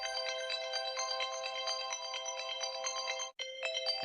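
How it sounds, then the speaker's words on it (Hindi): A phone alarm rings with a bright, repeating electronic melody in fast pulses, continuous and clear, breaking off for an instant before resuming. "अलार्म बज रहा है"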